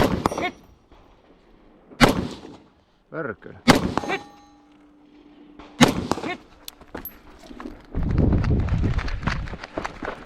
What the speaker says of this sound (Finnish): Siellä oli 3 peltiä, mitä ammuttiin.